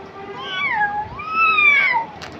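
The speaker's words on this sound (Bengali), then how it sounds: "অমনি করে তো বিড়ালটা ডাকে" A cat meows close by in two drawn-out, rising and falling cries, clear and alone against a quiet background.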